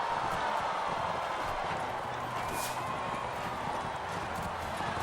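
Horse hooves clip-clopping in the Mount & Blade video game, a steady soft rhythm running through dense background game noise, with faint talk mixed in.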